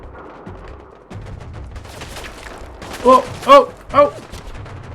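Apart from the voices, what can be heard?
gunfire in a video game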